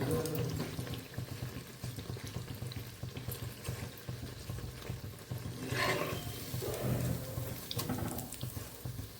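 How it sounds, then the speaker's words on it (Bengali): Bengali egg pitha frying in hot oil until reddish, a steady crackling sizzle with soft irregular popping throughout. "এরকম লাল লাল করে আমি ভেজে নিচ্ছি, তোমরা দেখতে থাকো।"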